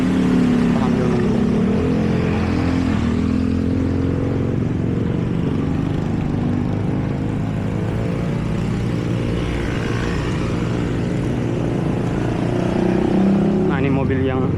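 Passenger cars and a truck roll off a ferry ship at Ambon, making a steady low engine rumble and drone throughout, with faint voices mixed into the background noise.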